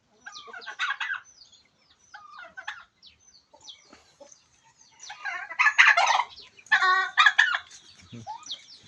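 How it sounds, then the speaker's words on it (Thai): Turkeys gobble and chickens cluck together, close and loud, with bursts of calls overlapping near the end. "มีไก่งวงไก่ตอกผสมผสานกันไปเรื่อยเปื่อยครับ"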